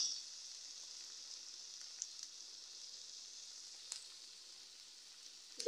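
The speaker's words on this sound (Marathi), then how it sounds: "आता आपण हे 1 चमचा सोया सॉस घालतो." Soy sauce sizzles steadily in a hot pan of chilli paneer, a soft, even hiss with a few faint pops and clicks, heard alone.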